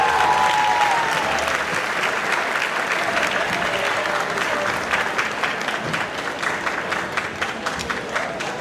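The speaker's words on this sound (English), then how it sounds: "Give it another round for applause for the seniors" A high school band concert audience applauds the 2024 seniors, a sustained wash of many hands clapping that starts loud and slowly thins, with faint voices mixed in.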